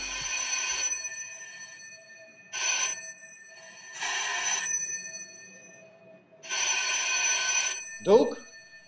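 A telephone bell in a radio drama rings in four separate bursts with pauses between them, clear and fairly loud, and a short thump follows at the end.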